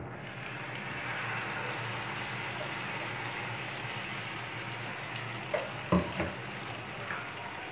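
Chutney hisses softly in hot oil seasoned with asafoetida for aloo chaat, a steady quiet sizzle with a few sharp knocks of a spoon against the pan near the end.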